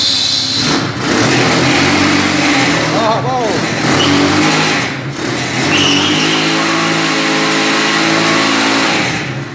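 Homemade three-wheeled CG motorcycle revving hard and spinning its tire on asphalt, a loud, close, sustained engine roar with rising and falling revs, mixed with voices and cheering.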